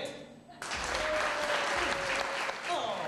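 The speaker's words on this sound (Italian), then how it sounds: "Un applauso al mio tre, al mio tre un applauso forte" A studio audience at a regional Rai 3 television taping bursts into loud, sustained applause on cue, starting abruptly after a brief quieter moment and continuing dense and steady, with a faint voice underneath.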